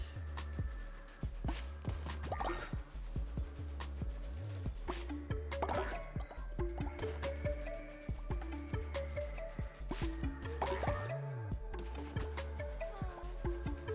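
Watering crops in the video game Cult of the Lamb: soft repeated squishy, dripping liquid splashes under a steady musical game soundtrack, with no talking.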